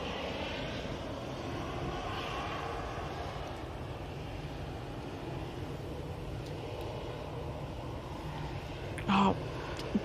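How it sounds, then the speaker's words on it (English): An EasyJet airliner departs on a flight to Belfast, its engines giving a steady, broad jet roar that holds at an even level throughout, with a brief sharper sound near the end. "Oh, we've got an EasyJet coming out."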